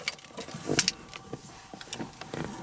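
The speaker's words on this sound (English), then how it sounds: "first thing you do is you have to put the key in the ignition" A DeLorean car key jangles and scrapes as it slides into the ignition, a close, brief metallic clatter about a second in, followed by quieter rustling inside the car.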